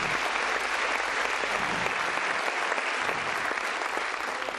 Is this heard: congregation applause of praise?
yes